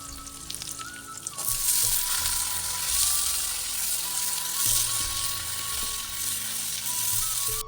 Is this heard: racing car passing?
no